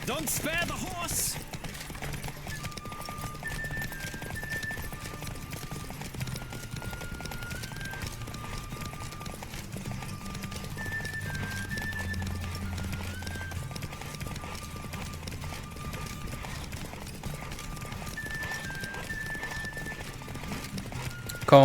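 Galloping hooves of a racing horse in The Witcher 3 drum continuously with a neigh now and then, set against a game music melody while a voice talks intermittently.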